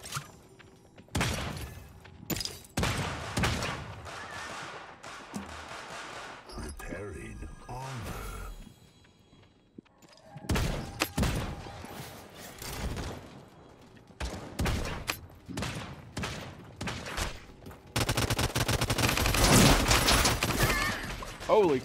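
Gunfire from a bot fight in Realm Royale comes in repeated rapid bursts and single cracks, heavy and close, with a dense sustained volley near the end. A player talks excitedly between and over the shots.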